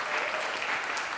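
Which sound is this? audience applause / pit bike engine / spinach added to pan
audience applause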